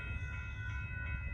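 A northbound Amtrak Texas Eagle passenger train, number 22, approaches at Dittmar Road in Austin, Texas, a steady low rumble with a sustained tonal whine from the locomotive, fairly close and continuous, with no talk.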